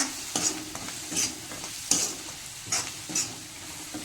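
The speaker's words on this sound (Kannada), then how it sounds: "ಈ ಥರ ಹಾಕ್ಕೊಂಡು ಚೆನ್ನಾಗಿ ಫ್ರೈ ಮಾಡ್ಕೊಳ್ರಿ" Cauliflower florets frying in a pan, a continuous sizzle broken by a few sharp scraping stirs of a spoon, close and fairly quiet.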